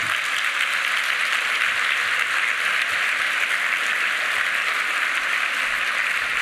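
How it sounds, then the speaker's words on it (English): A large room of guests at the Legal Services Corporation's 50th anniversary gala gives a sustained round of applause, dense and uniform clapping that stays loud and unbroken throughout. "I'd like you all to give yourselves a round of applause"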